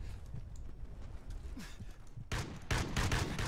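Gunfire in a Call of Duty: Ghosts multiplayer match on a Ukraine map: muffled, distant shots at first, then a louder burst of rapid automatic fire near the end, no talking.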